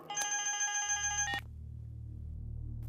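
A telephone rings with a bright electronic trill for over a second, then cuts off, leaving a low steady hum.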